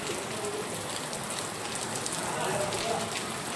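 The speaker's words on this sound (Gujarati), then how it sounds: "અત્યારે વરસાદ ચાલુ છે તમને બતાવી દઉં વરસાદ" Rain falls steadily in Fatariya village, a soft continuous hiss of drops pattering on surfaces nearby, even and unbroken with no talking.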